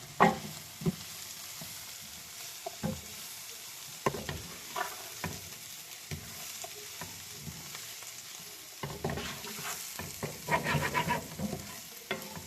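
Dhaba-style mixed vegetable sabzi being stirred with sabzi masala in a hot pan: continuous sizzling with scraping spatula strokes and occasional louder knocks, close up and without talk.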